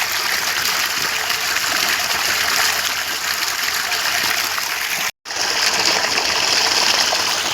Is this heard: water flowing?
yes